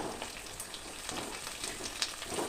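Onions sizzle and crackle steadily in a clay pot for egg curry, a soft continuous frying hiss with scattered pops and faint stirring, no voices.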